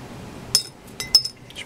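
Dried strawberries clink against the sides of a container in a home kitchen, giving three or four sharp, light chinks spaced apart, close and clear against a quiet background.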